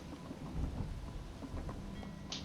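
Steady rain pours and thunder rumbles low in a Skyrim game world, forming a dense, continuous wash of falling water with deep rolling booms underneath.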